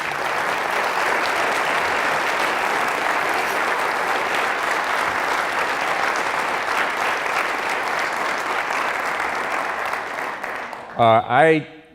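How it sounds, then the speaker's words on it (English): A crowd at a city State of the City address claps steadily for about ten seconds, loud and sustained, before a voice starts speaking as the applause fades. "let's give her another round of applause"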